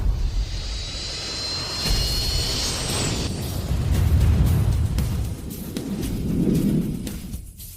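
An airplane on an emergency landing roars past with a loud jet whine that gives way to heavy, rumbling low thunder, swelling and fading over several seconds.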